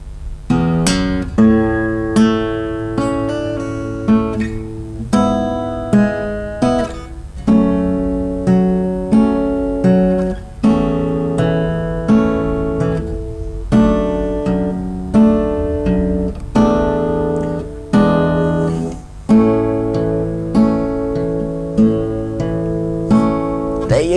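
Acoustic guitar picks the main section of a song at a slowed tempo, a long, steady flow of close, clear fingerpicked notes and chords without any voice.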